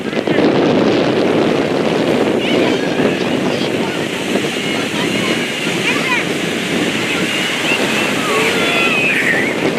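Sea waves wash onto a beach at Mananga Aba, a steady loud broadband surf roar with wind buffeting the microphone throughout; distant voices of people, including children, are faintly audible under the water noise.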